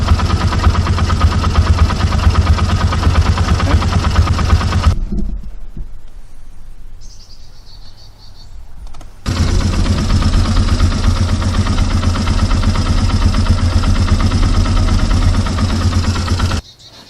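A car engine idles with its alternator running during a 12V alternator and battery test, a loud low throbbing rumble that drops away for a few seconds midway, then resumes.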